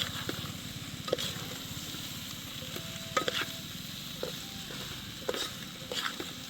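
A spoon scrapes and stirs masala through rice and dal in a pot over a camping fire, with soft sizzling underneath and a few sharp clinks of the utensil against the pot, quiet and close.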